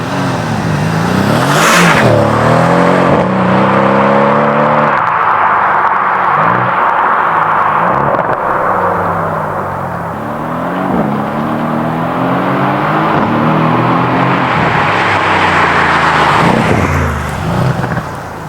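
A 2018 Mercedes-Benz C63S AMG engine revs hard and pulls through repeated gear changes from inside the car, loud and rising in pitch with each shift, easing briefly mid-run before building again.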